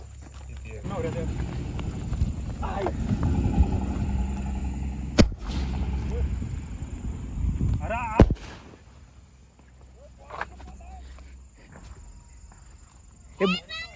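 Diwali firecracker bombs going off outdoors: a few sharp, loud cracking bangs spaced seconds apart, under and between people talking nearby amid background hubbub.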